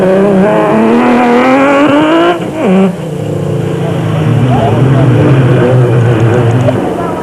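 A Ford Ranger race truck with a 4.6-litre V8 engine at the 2001 Carnival City 400 off-road race, roaring loud and close with rising revs, a brief lift off the throttle, then hard acceleration again, with a commentator talking over it.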